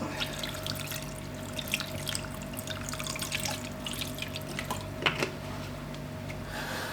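Water runs into a large cooking pot holding beef for pares, a continuous close trickle and splash over a faint steady hum, with no voices.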